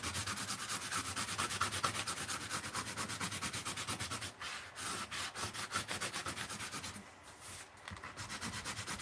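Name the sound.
scraping melted crayon wax off an art journal page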